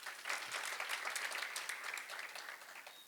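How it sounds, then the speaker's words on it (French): An audience claps steadily and enthusiastically, a dense wash of applause that holds for a few seconds before tapering slightly. "Applaudissez très fort, s'il vous plaît."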